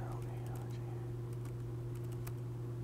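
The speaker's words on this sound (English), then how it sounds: "so I'm just going to type something" Typing on a computer keyboard, a run of soft irregular key clicks close by over a steady electrical hum, no clear talk.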